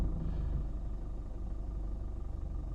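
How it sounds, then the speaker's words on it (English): An LDV Maxus T60 pickup engine running at a steady idle, a low, even rumble heard close by with no voices. "Start the vehicle."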